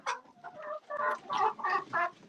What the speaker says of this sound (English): See all these hens and no eggs